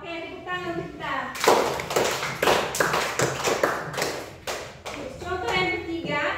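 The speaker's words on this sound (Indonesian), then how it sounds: "Oke, tepuk tangan untuk kita." Schoolchildren in an Indonesian language class clapping their hands together in a rhythmic burst of claps, close and loud, with children's voices before and after.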